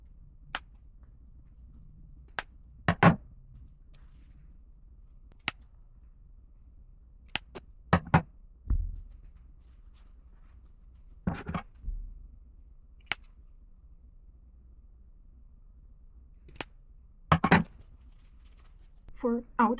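Scissors snip V-shaped notches into the seam allowance of corset fabric, giving about a dozen sharp, quiet cuts spaced irregularly over a soft background hiss.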